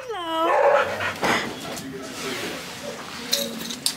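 A newly adopted shelter dog whines and gives short yips and whimpers up close, with brief bursts amid people talking nearby.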